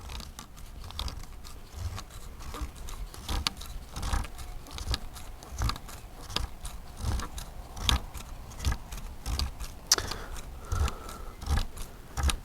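Trampoline part being twisted down a threaded fitting, with steady scraping and clicking turns repeating close by across the whole stretch, no talking.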